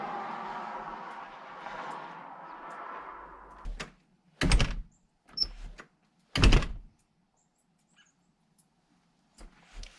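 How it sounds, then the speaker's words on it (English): A door being closed onto a nail set to spread a hinge, several sharp, loud thunks and knocks separated by pauses, after a stretch of faint rustling. "close the door on it."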